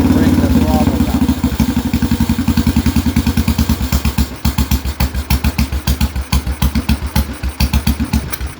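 A Royal Enfield Bullet 350 single-cylinder motorcycle engine runs close by, its rapid steady thumping slowing into a lower, more spaced idle beat as the throttle is eased down.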